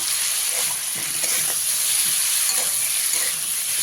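Vegetables for a vegetarian red amaranth greens dish with potato sizzle steadily in an uncovered pan, a constant hiss of frying broken by soft scrapes and clinks as the mixture is stirred.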